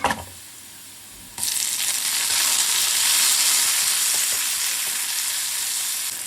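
Chopped tomato dropped into hot oil with nigella seeds, a quiet background hiss abruptly jumping to a loud, sustained sizzle that holds steady and close.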